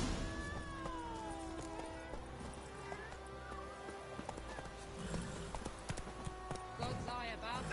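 Roach the horse in The Witcher 3 gallops with rhythmic clip-clopping hooves and an occasional whinny, steady and moderately close, layered under game dialogue and background score.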